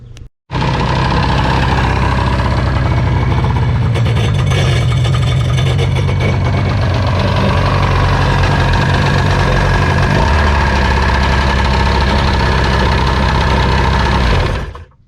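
An old jet ski engine, left sitting for years, runs loud and steady, close up, with a rough, knocking mechanical chatter over a low rumble that holds for about fourteen seconds before cutting off.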